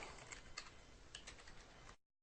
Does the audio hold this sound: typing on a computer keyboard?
yes